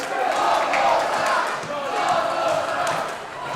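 A packed crowd at a pro wrestling show roars and chants in a continuous, loud, reverberant wall of cheering for a wrestler in the ring, with thuds from the action faint underneath.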